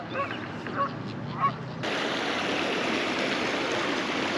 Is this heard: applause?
no